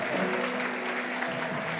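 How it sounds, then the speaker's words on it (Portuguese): Church congregation applauding, a short burst of dense, steady clapping from many hands filling the room. "Uma salva de palmas"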